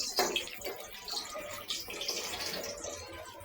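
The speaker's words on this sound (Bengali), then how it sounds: "এই যে গরু মাংসতেও পানি দিয়ে দিছি," Water pours into a cooking pot of beef with taro and potatoes, a faint, continuous splashing trickle with a brief louder splash at the start.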